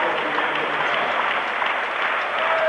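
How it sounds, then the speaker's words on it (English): Rhythmic, steady clapping from an audience fills an arena at a weightlifting competition, loud and continuous with a faint voice beneath. "the clapping is being led by the German coaching team"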